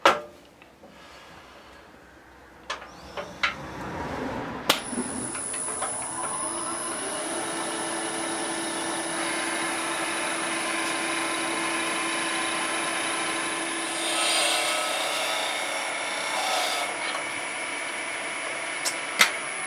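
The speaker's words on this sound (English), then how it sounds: "Okay, I'll turn the lathe off." A woodturning lathe spins up and runs steadily, cutting a scrap piece of wood held with a tailstock support pad, giving a sustained whirring hum with a high tone and occasional sharp knocks and scrapes.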